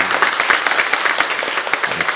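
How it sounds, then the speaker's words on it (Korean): A church congregation claps together in a steady burst of applause, a dense patter of many hands filling the space, with a voice faintly audible underneath. "우리 나오실 때 박수로 환영하겠습니다."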